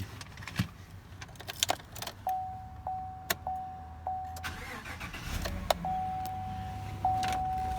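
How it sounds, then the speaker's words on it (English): Keys jingle briefly near the start, followed by the engine of a 2016 Chevy Silverado 1500 4X4 pickup cranking and settling into a steady hum with a faint warning chime repeating. "let me go ahead and grab the keys"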